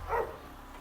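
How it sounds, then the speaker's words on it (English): A dog gives a single short bark, moderately near, heard once against quiet background noise at a priory's modern church. "Sorry about the dog barking."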